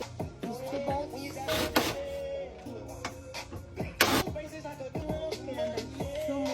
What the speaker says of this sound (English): I'm using a 10 millimeter to take out these two bolts